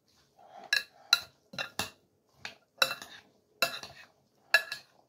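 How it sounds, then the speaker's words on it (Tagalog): A utensil scrapes and clinks against a cooking pot as Filipino homemade food ingredients are mixed, about eight separate stirring strokes in an irregular rhythm, close and clear with quiet pauses between. "paghalo-haloin lang po natin lahat"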